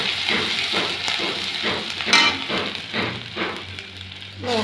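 Chopped ginger sizzles in hot oil that already holds fried cumin seeds, a steady crackling fry with rhythmic scraping stirs at close range and no talk.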